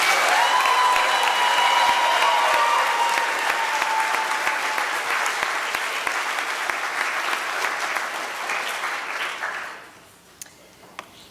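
Audience applause for students at a school awards ceremony, a dense, steady wash of clapping that fills the room for about nine seconds and then fades out, leaving near quiet with a few stray claps.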